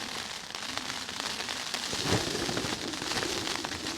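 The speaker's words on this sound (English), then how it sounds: "Heavy rain, blasts of wind." Heavy rain drums densely on a tent at a wild camp on the Pembrokeshire coast, with gusting wind, a steady close patter and a brief swell midway.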